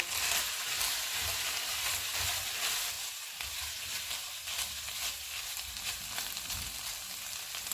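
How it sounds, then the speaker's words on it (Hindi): Chicken pieces with capsicum and onion frying in a pan give a loud, continuous sizzle close by, with a few stirring scrapes and no voices. "अब इसमें शिमला मिर्च डालेंगे, प्याज डालेंगे और इनको 2 से 3 मिनट तक भूनेंगे"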